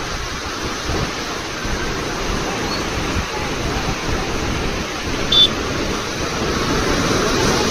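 Water pours forcefully through the open gates of Gorur Dam on the Hemavathi reservoir, a continuous broadband roar like heavy rain that holds steady and loud from start to finish.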